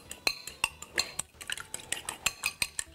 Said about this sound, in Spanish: Lo vamos a batir.